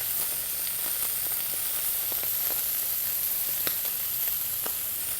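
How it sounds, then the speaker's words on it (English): Pieces of squid fry in a very hot pan, a continuous close sizzle and hiss scattered with small crackles and pops, with no voices. "You need to have a really, really hot pan for this so that the squid actually colours when it's actually in the"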